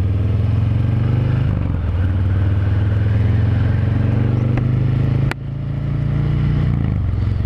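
A Harley-Davidson Fat Boy motorcycle rumbles close by on a test ride, a deep steady engine note that dips briefly and swells again, with a short sharp click partway through.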